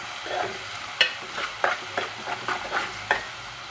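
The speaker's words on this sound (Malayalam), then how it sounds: "നമുക്കിതിങ്ങനെ നല്ലോണം വരട്ടിയെടുക്കണം" Sugar is stirred and roasted in a pan for ghee rice, with a spoon scraping in quick, irregular strokes over a low, soft sizzle, close up and without talk.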